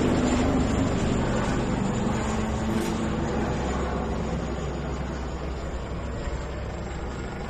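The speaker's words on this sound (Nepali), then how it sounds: "भारतीय हेलिकप्टर सीमा मिचेर नेपाली आकाश प्रवेश गर्दै दार्चुला सदरमुकाम खलङ्गा र आसपासका बस्तीमाथि लगातार यसरी उड्ने गरेको छ" An Indian military helicopter flies over Khalanga, the Darchula district headquarters in Nepal, producing a loud, steady engine roar that holds for several seconds and eases slightly toward the end, with no one speaking.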